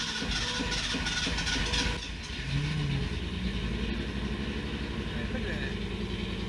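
A Datsun 280Z, started for the first time in years, runs with a steady rough engine drone that dips briefly and then continues, while a voice talks in the background.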